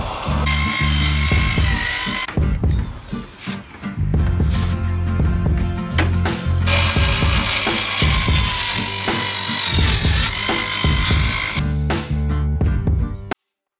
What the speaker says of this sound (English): everything is completely cut out with the jigsaw